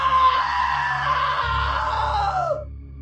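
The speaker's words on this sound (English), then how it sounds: "Now that was a great scream." A woman's loud, sustained scream in the video game What Remains of Edith Finch holds for about two and a half seconds, then drops off over a low droning background.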